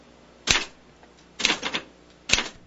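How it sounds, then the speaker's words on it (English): A typewriter making labels for tapes, three sharp mechanical clacks spaced about a second apart, close and distinct against a quiet background. "uses his typewriter to make labels for every tape"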